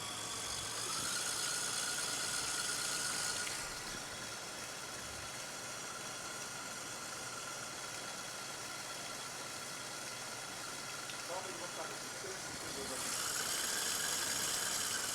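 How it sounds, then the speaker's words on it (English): An electric mixer whirs steadily at higher speed while beating icing for a red velvet cake, a continuous mid-loud drone with a brighter hum at the start and end. "now we'll crank up the speed on the mixer just a little bit and we'll let this mix"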